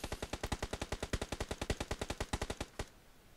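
Automatic gunfire in the mobile shooter New State Mobile, a fast even burst of about twenty-five sharp shots over nearly three seconds, loud and close, then stopping abruptly.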